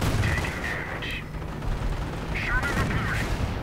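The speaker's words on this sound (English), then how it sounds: "Calliope barrage" Calliope rocket artillery barrage in a WWII strategy video game: a dense, continuous rumble of launches and explosions with rising whistling streaks, loud and sustained throughout.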